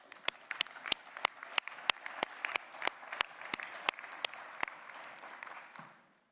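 Applause from a conference audience: a steady wash of clapping with sharp individual claps standing out, loud and close, fading out near the end.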